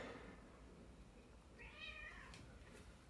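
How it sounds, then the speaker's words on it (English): A house cat meows once in a clear, rising-and-falling call, close to the mic, against a steady low hum of background noise, with no talk. "My cat is trying all manner of meows because it's playtime"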